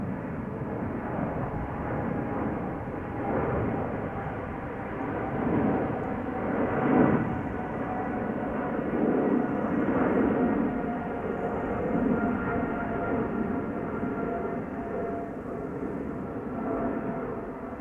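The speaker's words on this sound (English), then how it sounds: "Emirates Sky Cargo, flight 9916, going to Dubai." An Emirates SkyCargo Boeing 777 freighter at Amsterdam Schiphol Airport gives off a sustained jet engine roar at middle distance, surging and easing over nearly eighteen seconds.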